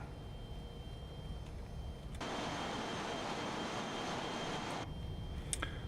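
Airliner engines spool up to takeoff power in Microsoft Flight Simulator 2020, a steady broadband roar that swells sharply from a low idle rumble, holds loud and even for a few seconds, then drops back toward a quieter hum.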